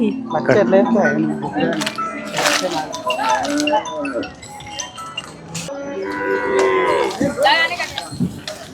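A cow at a cattle market with HF and Jersey cows moos loudly several times close by, and voices talk in between and over the calls.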